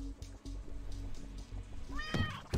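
A video game cat gives one clear, close meow near the end, heard over a low, steady game music and ambience bed with no talking.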